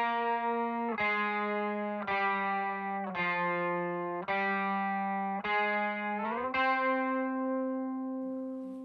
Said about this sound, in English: Next up is electric guitar, recorded through my Fender Deluxe.